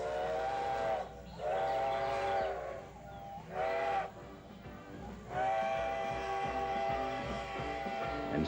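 A train pulling into Auburn station sounds several long steam-style whistle blasts in a broken rhythm, with a bright, tonal, moderately distant call between brief pauses over a low rumbling rail backdrop, no talk.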